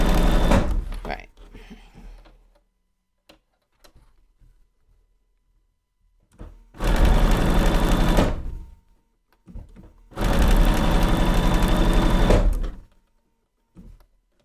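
Two bursts of fast, dense stitching from a Bernina sewing machine, each lasting about two seconds and loud and close, with quiet pauses and small clicks and handling noises between them.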